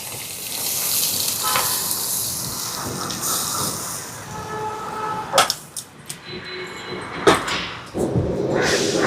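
Soaked tamarind water is poured into a hot pan for a brinjal and chickpea curry, producing a broad hiss and sizzle that sputters, then swells again as liquid hits, with a few clinks of utensils.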